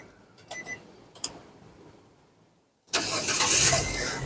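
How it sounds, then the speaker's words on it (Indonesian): A 2013 Nissan Grand Livina 1.5 SV automatic gives a few sharp key and dash clicks, then a pause, then fires up abruptly and settles into a loud, steady idle close by. "Sekarang kita coba start mobil ya."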